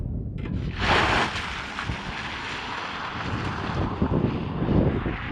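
A Ford Mustang Mach-E Rally electric car accelerates hard with launch control, giving a loud, sustained rush of wind and road roar that builds after a sharp surge near the start and holds steady.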